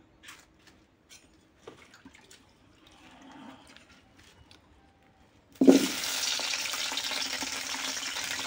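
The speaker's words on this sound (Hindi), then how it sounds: "आलू कांकड़ तेल रे हल्का भाजिकिना बाहर करदे" Potatoes and spiny gourd hit hot oil in a pan: after a few quiet clinks and kitchen noises, a loud, steady sizzle bursts in suddenly and keeps going to the end.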